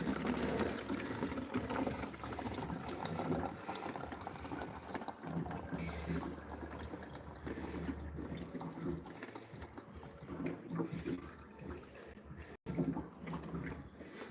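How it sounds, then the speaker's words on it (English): Water runs steadily into a bottle at a gym workout machine, a continuous rushing fill with some bubbling that holds a fairly even level for the whole stretch. "Just filling up the water."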